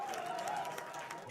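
A crowd of about 150 to 200 people applauds and cheers at a Disney Lorcana trading card championship, with dense steady clapping and a voice talking over it.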